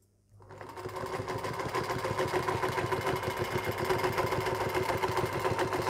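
A Singer Featherweight sewing machine stitches along a quilting ruler, starting from silence and settling into a fast, even mechanical whir of needle strokes, close and steady with no talk.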